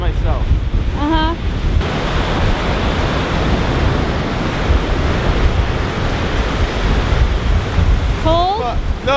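Cold wind buffets the microphone at the lakeshore in Duluth, Minnesota, a loud, continuous roar mixed with crashing surf. Faint whistling chirps can be heard near the start and end.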